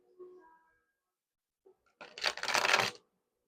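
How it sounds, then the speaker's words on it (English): Tarot deck being shuffled, a dense burst of riffling card flicks lasting about a second, close and fairly loud, after a few faint soft handling sounds. "I will shuffle here to get an overall energy"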